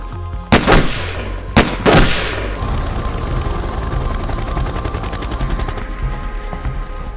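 Gunfire in an action film trailer: two loud, close booming shots ring out in quick succession, then a sustained, dense roar of battle noise and rumble takes over.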